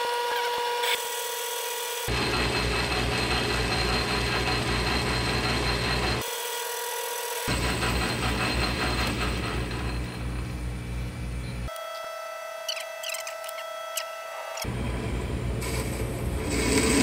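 A South Bend lathe turns a metal piece down to an arbor, a steady mechanical whir with grinding cutting noise that stops and restarts between passes, loud and close.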